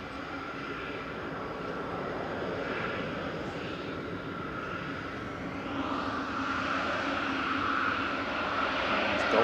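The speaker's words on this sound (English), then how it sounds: "EasyJet off to Malaga, Airbus A319 OELQR" Airbus A319 of easyJet departing Manchester Airport for Malaga makes a distant jet roar that slowly builds and grows louder toward the end, with no talk over it.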